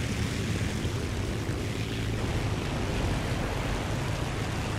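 Propeller airplane engine droning steadily in the War Thunder combat game, a constant broad roar with no pauses and no voices over it.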